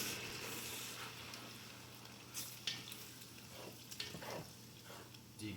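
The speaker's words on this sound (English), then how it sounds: "Deglaze bottom of that pan" Onions and peppers cooking in a pan for Anasazi bean chili as beer is poured in to deglaze, giving a continuous broadband sizzle with a few sharp spatters and stirring scrapes, close and moderately loud.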